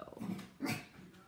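Small dogs resting in their kennels whimper and give low, muffled grunting yelps, faint and close indoors.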